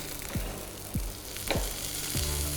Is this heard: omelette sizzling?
yes